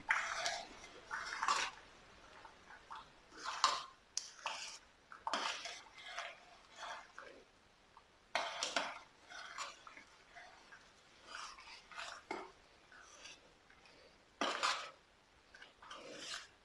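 A spoon scrapes and clinks against a pot while sharkkara payasam is stirred with ghee, in irregular bursts of metallic scraping separated by short quiet gaps, with no voices.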